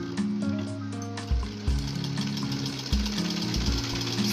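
A sewing machine stitching a small cotton night dress for a Laddu Gopal idol, a close, steady mechanical whirr with rapid needle chatter and brief changes in speed, with no talking.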